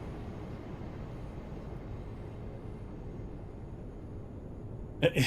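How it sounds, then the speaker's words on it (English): A DB Cargo Class 66 diesel freight train rumbles past in Train Sim World 5 on the West Coast Main Line south, a steady broadband drone holding level throughout before a short burst of louder noise at the end. "there's a DB Cargo 66 coming through"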